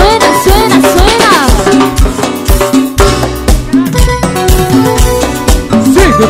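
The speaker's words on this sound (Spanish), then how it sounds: "Y suenan los timbales." Timbales crack out sharp, rhythmic hits inside a loud, dense live tropical band performance, punching through bass, horns and other percussion.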